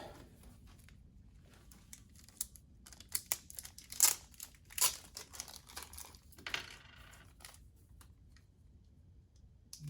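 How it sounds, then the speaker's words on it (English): Small plastic bags holding new bearings and washers for a Zebra Xi4 printer platen roller being torn open one by one, a close, crinkly rustle with sharp bursts of tearing and clicking and no talk. "They come in little bags like this, so we just have to open them one by one."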